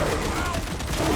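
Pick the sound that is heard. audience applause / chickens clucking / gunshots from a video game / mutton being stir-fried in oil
gunshots from a video game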